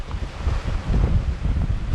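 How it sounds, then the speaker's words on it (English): Strong, steady wind of about 20 knots buffets a sailboat off the eastern tip of Pico in the Azores. The gusts rumble loud and continuous against the microphone, with a dull wash of sea underneath and no voices. "It's getting good and windy out here."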